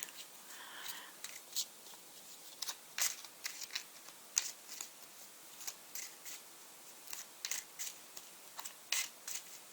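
Tarot cards shuffled and drawn for a reading, a run of sharp, close papery snaps and riffles in quick irregular bursts over a quiet background.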